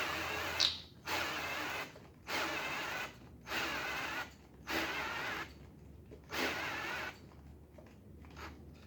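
Cordless drill straining during final assembly of a small block engine's cylinder heads and valve train, running in about six short bursts of roughly a second each, separated by pauses, close and moderately loud.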